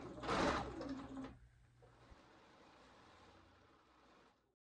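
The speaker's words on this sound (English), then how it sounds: "get all your strips into two and just start sewing" Bernina sewing machine stitching quilt fabric strips, a loud fast whirring burst for about a second, then the motor quiets to a low hum and fades out.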